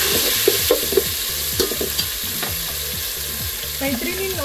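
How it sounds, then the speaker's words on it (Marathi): Cumin seeds crackle and sizzle in hot oil for a Maharashtrian sukka chicken, with a steady frying hiss, scattered sharp pops and repeated stirring or scraping strokes close up, with no voices. "हे थोडं जिरं तडतडू द्यायचं"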